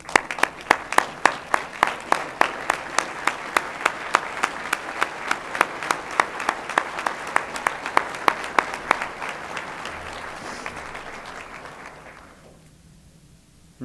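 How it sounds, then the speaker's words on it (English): An alumni audience at a university hall of fame event claps in unison with strong rhythmic beats, the steady pulse fading out around twelve seconds into near silence. "let's give each other a round of applause"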